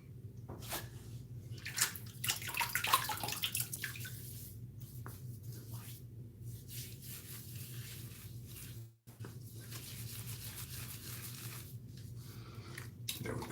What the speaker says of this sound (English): Just rinsing my hands a little bit.